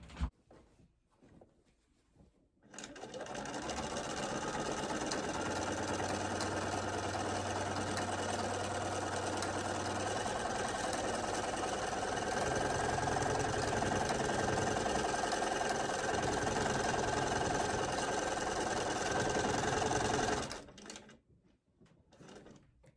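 A sewing machine stitches a quilt with fleece backing, running steadily for about eighteen seconds with a whirring hum, then stops, with quiet pauses before and after.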